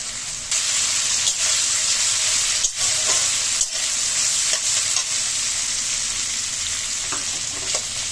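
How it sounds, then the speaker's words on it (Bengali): Chopped onions and potatoes stir-frying in a pan for chowmein, a loud, steady close sizzle with occasional scraping knocks of a spatula, no voices. "কুচিয়ে রাখা পেঁয়াজগুলো এই আলুটার সাথে একদম দিয়ে ভালো করে ভাজতে থাকবো"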